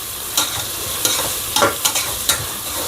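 Fried onions stirred in a hot pan for chicken pulao, with five or six sharp scraping strokes over a constant sizzle, close and fairly loud, with no voices.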